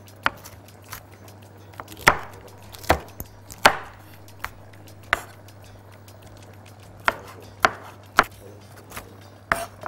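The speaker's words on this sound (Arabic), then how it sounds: "ابتدي اقطع الفلفل ده" A knife chops peppers on a cutting board in a home kitchen, giving about a dozen sharp, close, irregularly spaced thuds against a quiet background hum.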